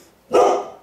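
A dog gives a single loud, close bark, brief and sharp, heard alone after a garage door opens.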